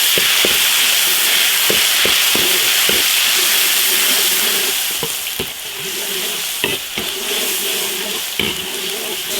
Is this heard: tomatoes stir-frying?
yes